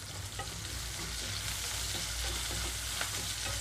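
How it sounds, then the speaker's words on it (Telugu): Onions and three green chillies fry in a pan with a continuous close sizzle while a spoon scrapes and stirs in irregular strokes, no voices over it. "ఉల్లిపాయలన్నీ సాఫ్ట్ కలర్కి వచ్చే వరకు వేయించుకోవాలి."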